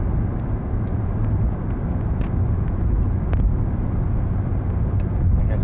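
A 2009 Chevrolet Equinox cruises along the road at about 60 mph, heard from inside as a loud, steady rumble of engine, tire and wind noise with no breaks.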